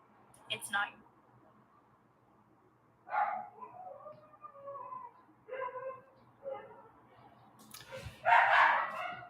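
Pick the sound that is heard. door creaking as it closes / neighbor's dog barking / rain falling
neighbor's dog barking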